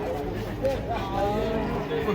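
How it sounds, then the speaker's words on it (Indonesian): Horned cattle low with drawn-out moos amid a noisy crowd of voices and background chatter as they are unloaded from trucks, the animals close and mixed into the din. "Kedatangan sapi bertanduk ini makin ramai."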